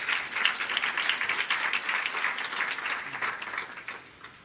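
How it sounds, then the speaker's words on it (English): Applause from the audience at an intercultural innovation awards ceremony honoring the winners, a brisk crowd of clapping hands at moderate level that continues steadily and eases slightly toward the end. "They really deserve a round of applause."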